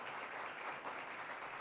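Steady, dense applause from an audience at a live stage event in Ujjain, filling the whole moment without a break and with no voices on top.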